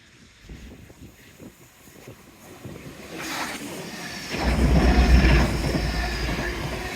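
A train runs along the Dawlish seawall railway: a low rumble swells from about midway into a loud, close, steady roar of wheels and carriages, with wind noise throughout and no talking.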